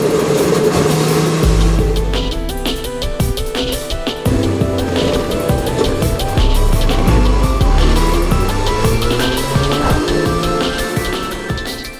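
A motorcycle rides along hilly countryside roads in Flanders, its engine running loud and steady and climbing and dropping in pitch with gear changes across the whole stretch.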